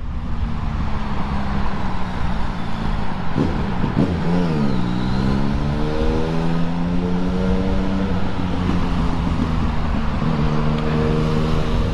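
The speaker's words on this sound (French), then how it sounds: "Il y a un scooter derrière moi, il est collé à mon cul." A scooter rides right behind in city traffic, its engine revving and rising in pitch over a steady roar of road and traffic noise, loud and close, with no talk.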